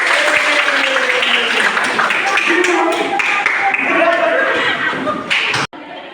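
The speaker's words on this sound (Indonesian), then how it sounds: "Oke, tepuk tangan untuk kita." A class of senior high school students claps together after an exercise, a burst of lively applause mixed with chatter that cuts off abruptly near the end.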